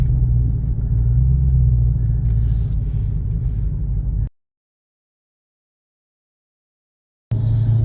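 A Dodge Charger Redeye rumbles low and steady from inside the cabin while driving, then cuts out to silence before the rumble briefly resumes at the end.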